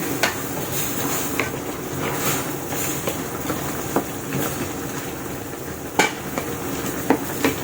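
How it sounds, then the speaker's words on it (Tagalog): A spoon scrapes and clinks against a metal pot while boiling chicken paksiw is stirred, with occasional sharper knocks over a steady sizzling background. "Mix-mix natin yan."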